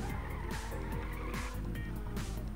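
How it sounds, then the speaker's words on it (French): Racing car drifting through a corner in the PlayStation game Ridge Racer Type 4, engine roaring with rising and falling revs while tires squeal and skid continuously, loud and close with no talk. "j'étais en train de déraper et j'ai cassé mon dérapage"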